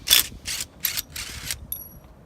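A ratchet working the lug bolts of a tractor wheel during a flat-tire repair: four quick, close clicking bursts, then a short fainter click at the end, with no talk.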